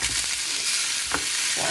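Food sizzles and crackles steadily in a hot frying pan, a continuous close hiss with a brief stir or scrape near the end.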